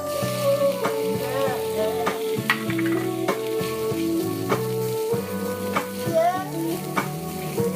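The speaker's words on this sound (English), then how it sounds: "now I'm getting ready to butter my pan to cook the lobster to a nice pink color" Cut lobster pieces cook in a buttered pan over medium heat, a close steady sizzle with frequent stirring scrapes and utensil clicks, accompanied by tonal background music.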